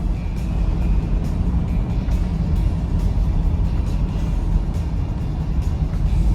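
A 1979 Chevrolet Scottsdale Suburban cruising on a mountain drive in Wyoming: a loud, continuous low engine drone blended with road rumble from inside the cab, steady throughout and without speech.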